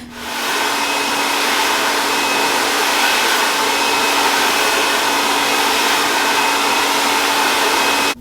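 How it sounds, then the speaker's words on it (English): A hair dryer blows continuously during a silk press on a bob haircut, a loud steady whooshing whine from start to finish, switching off right at the end. "we are all done with the blow drying process"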